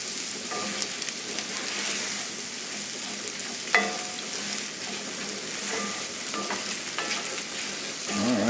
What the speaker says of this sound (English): cooking for about 1 minute until it's evenly spread throughout your whole ground beef mixture of vegetables and ground beef